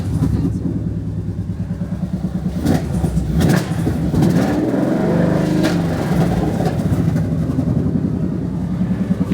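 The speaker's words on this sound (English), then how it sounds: "Let me give you a little exhaust note." A project car engine idles with a rough, throbbing exhaust note, then is briefly revved once with a loud rising swell before settling back to the uneven idle.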